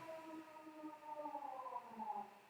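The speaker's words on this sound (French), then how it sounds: "on n'a jamais les sirènes qui sonnent" Wailing siren sounding in Denmark, a steady rising and falling tone with layered harmonics, moderately distant and alone against faint background hum.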